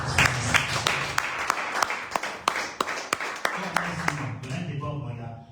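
Congregation at a prophetic church service in Martinique applauding, rhythmic clapping in a steady beat with cheering voices mixed in, fading out toward the end.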